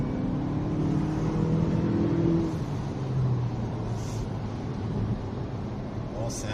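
A Renault Arkana hybrid SUV, a 2021 model, pulls away on a country road with a rising engine hum that climbs then settles into a steady drone over road rumble, heard from inside the cabin.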